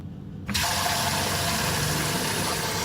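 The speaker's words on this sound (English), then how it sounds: "Fill the bowl up with hot water halfway." Hot water gushes from a kitchen tap into a bowl, starting abruptly and running as a steady, close rushing stream with no talk.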